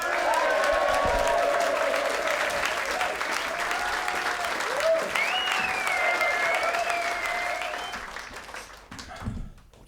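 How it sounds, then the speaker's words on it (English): A live comedy show audience claps steadily and loudly for the whole stretch, a dense wash of applause with faint tonal sounds over it, tapering slightly near the end. "give a big round of applause, please, for the guitar, and please keep clapping until I'm in position"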